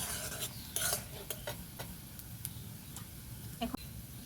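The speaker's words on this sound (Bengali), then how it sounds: "দেখুন বন্ধুরা, লাল করে পেঁয়াজটা ভেজে নিয়েছি।" Onions fried until red in a pan for a home-style chicken kosa, crackling with a continuous sizzle while a spatula makes repeated sharp scraping clicks against the pan.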